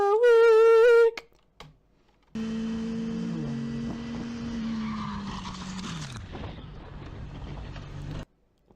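A car skids with a long tire screech and engine drone over several seconds, ending abruptly in an impact, preceded by a brief musical sting.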